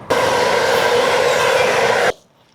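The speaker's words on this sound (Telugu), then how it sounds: "ఇదే ఇప్పుడు మనం ఎక్కాల్సింది ట్రైన్" A commuter train at a station gives a loud, steady mechanical rumble and hum for about two seconds, then cuts off abruptly into near silence.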